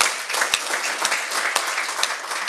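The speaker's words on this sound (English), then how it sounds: "they deserve a round of applause" Audience applause at a graduation, a brief, even patter of many hands clapping at moderate distance with a few sharper claps standing out.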